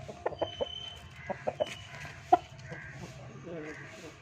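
Short bursts of country chicken clucking scattered through the clip, with one sharper squawk near the middle, over low background murmur.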